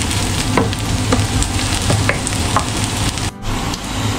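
Garlic sautéing in a pan for pork caldereta, a loud, dense, continuous sizzle with intermittent spatula scrapes and taps, briefly cutting out for a moment before resuming.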